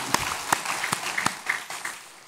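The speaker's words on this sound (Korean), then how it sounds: "박수를 하나님께 드리겠습니다" Sparse clapping from a church congregation during a Sunday worship service, a few distinct claps scattered across a short, fairly quiet stretch.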